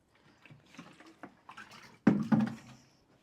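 Water poured over freshly sown pea and carrot seeds in a garden container, a soft trickle and splash that starts faintly and swells into a louder, closer pour near the end, with no talking.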